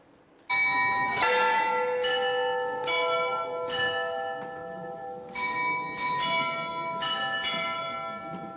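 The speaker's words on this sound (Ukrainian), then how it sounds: "дзвони Михайлівського Золотоверхого звучать кожні півгодини" Church bells of St. Michael's Golden-Domed Monastery in Kyiv ring in repeated strikes, each blow followed by long, bright, overlapping ringing tones. The peals are loud and close, with no talking.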